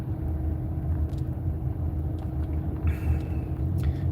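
A car rumbles past in a storm-damaged town, a low steady road rumble at moderate distance with no talk over it.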